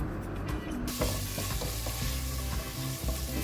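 Chopped capsicum and cabbage stir-fry in a hot pan, with a steady sizzle under repeated scraping and tossing strokes of a spatula, close and continuous.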